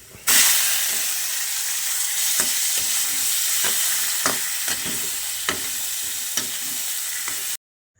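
Steady loud sizzling of garlic and pepper sautéing in a hot pan, with occasional clicks and scrapes of stirring throughout.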